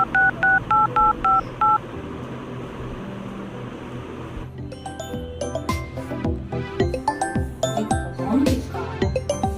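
Landline telephone keypad tones as a number is dialed: six short, evenly spaced beeps in a quick run, then a continuing mix of room noise and clattering household sounds.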